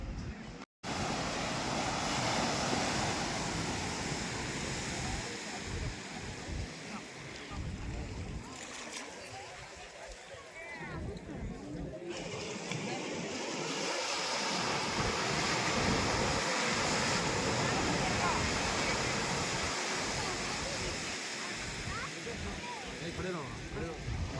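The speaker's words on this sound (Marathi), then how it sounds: "हा समुद्रकिनारी पट्टा आहे, खूप सुंदर आहे आणि स्वच्छ पण तेवढाच आहे" Ocean surf rolls steadily onto the beach at Somnath, Gujarat, a dense continuous wash of breaking waves mixed with wind buffeting the microphone, swelling and easing slightly over time.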